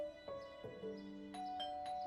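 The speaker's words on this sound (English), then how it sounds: "When the doorbell rang, Mia frowned." A two-tone ding-dong doorbell chime rings indoors, clean and moderately clear, its tones sustaining briefly before a second chime sounds, with no voices.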